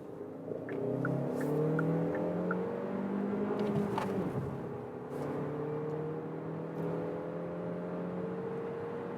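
A midsize SUV, a VW Tiguan or Hyundai Tucson, accelerates hard in second gear in sport mode, its engine whine climbing steadily in pitch from inside the cabin, then easing to a steady drone, with no talking.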